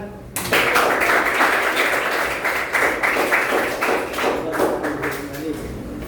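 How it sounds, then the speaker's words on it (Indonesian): Clapping from a classroom group during a teaching session on the role of pesantren in dakwah, a dense run of hand claps starting abruptly and carrying on steadily, fairly close and loud. "Tepuk tangan."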